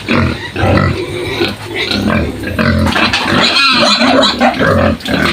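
Pigs on a small farm grunt and squeal close and loud, in a steady run of overlapping snorts with a few higher-pitched squeals near the end.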